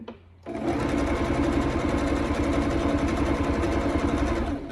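A sewing machine runs steadily while hemming a stretch skirt of exotic dancewear, with elastic laid into the folded channel. After a brief quiet start, it settles into one loud, continuous, even whirr that holds to the end.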